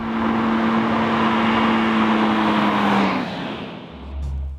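A Ford Focus ST engine accelerating on the street: a loud, steady rising drone with a strong tonal whine that drops away at a gear change, followed by lower rumbling.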